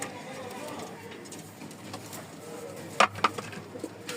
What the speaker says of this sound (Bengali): এই দেখেন বোখারা পেয়ারটা, এই যে বোখারা ডিমে বসে